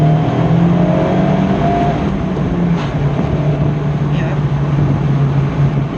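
A Fiat/Abarth car pulls hard under acceleration, its engine note a steady, loud drone heard from close by while people talk.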